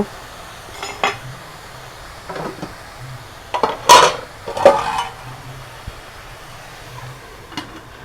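A lid set over a pan of leafy greens cooking with dried fish, a few metallic clanks and scrapes with one louder clatter midway, close by in a quiet kitchen, no voices.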